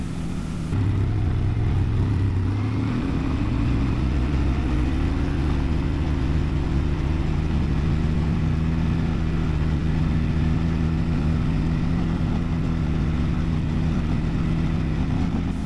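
A CFMOTO GOES TERROX 500L ATV with a 500cc engine climbs an off-road mountain trail, its steady loud engine drone holding throughout with a low rumble and shifting pitch as it works uphill.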